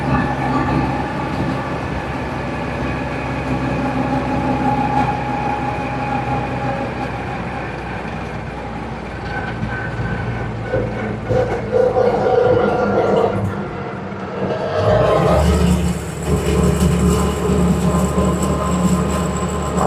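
An M38 jeep drives with its freshly rebuilt transmission and transfer case, a steady engine drone and rumble of road noise held at a constant level, swelling briefly with a shift of load near the end.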